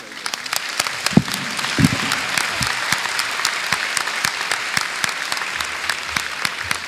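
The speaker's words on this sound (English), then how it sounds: "Ladies and gentlemen, a round of applause for Business SHS" An audience at a senior high school renewable energy challenge grand finale applauds a school team with full, sustained clapping of many hands, fairly close and continuous from start to finish.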